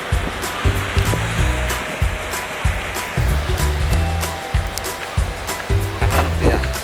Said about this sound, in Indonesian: Ini nice banget ya pantainya, ombaknya juga keren banget nih.